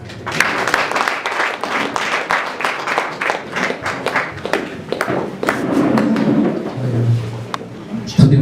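A church wedding congregation claps for a couple in a broad, dense patter of many hands that runs most of the way through, with a voice speaking over it near the end.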